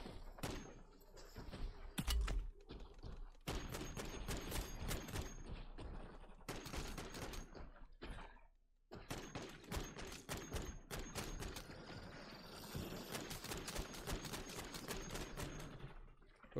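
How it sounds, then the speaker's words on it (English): Many players fire at once in MW3 Zombies, a fast online shooter, with dense rapid bursts of automatic gunfire in long clusters broken by short gaps. The shooting is loud and continuous throughout. "Everyone's just shooting him now."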